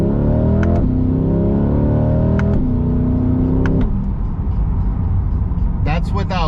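A Chevrolet C8 Corvette accelerates hard from 0 to 60 while still being broken in, its engine climbing through three rising pulls with brief dips at the gear shifts, loud and close, before settling into road noise.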